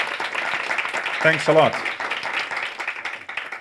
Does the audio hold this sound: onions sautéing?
no